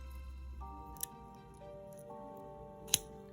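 A pair of scissors snips wire being trimmed off a handmade wire-wrapped witch broom, two sharp close clicks spaced apart over a faint steady background hum.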